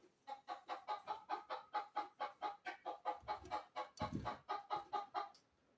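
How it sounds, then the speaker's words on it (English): A chicken that has wandered into a workshop clucks in a steady, rapid run of repeated calls, close and fairly loud, with a little low knocking underneath. "There's a chicken that snuck in here."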